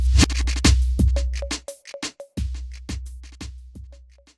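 A Kontakt sampler patch plays a short sample looped alternately forwards and backwards for as long as a key is held, giving a steady chain of scratchy, rising-and-falling swipes with repeating tonal blips, alone and fairly loud.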